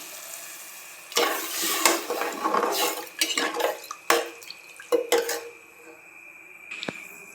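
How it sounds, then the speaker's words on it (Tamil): Measured water is poured into a hot pan of sautéed ingredients while rice and dal are being cooked. It hisses and sizzles in several loud, uneven bursts, then settles to a quieter simmer with faint clinks. "நம்ம அளந்து வச்ச தண்ணி இதில் ஊற்றிக்கலாம்."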